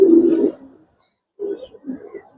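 A Giribaz pigeon coos close to the mic, a low throaty call followed by a short pause and then two softer coos.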